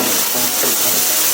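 Tomato goes into a hot pan with chicken cubes for homemade chicken kofta, giving a steady, close sizzle and hiss that stays even and fairly loud throughout the short stretch, with no talking over it.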